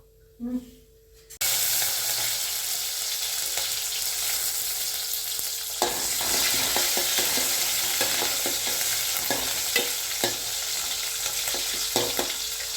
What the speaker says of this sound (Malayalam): തക്കാളി ആദ്യം ഇട്ട് നമുക്കൊന്ന് എണ്ണയിൽ വഴറ്റിയെടുക്കാം